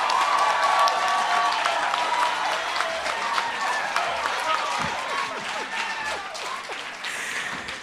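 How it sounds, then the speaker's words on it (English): A conference audience at a national small-business and co-operatives summit gives sustained applause, steady and crowded clapping that lasts throughout and fades slightly toward the end, with a voice speaking faintly beneath it. "You can give him another round of applause."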